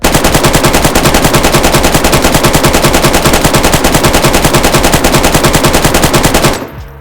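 An AK rifle fires full auto in the game DayZ, a loud, rapid, unbroken stream of shots for about six seconds before cutting off, with no talk.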